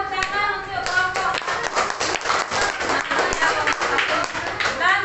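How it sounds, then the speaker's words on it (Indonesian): A classroom group claps for a team of students after they present their answer, a dense, steady patter of many hands lasting throughout, with voices mixed in under the applause. "Berikan tepuk tangan untuk kelompok"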